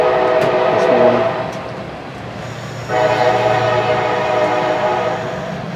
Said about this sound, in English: Amtrak collided with a CSX train this morning.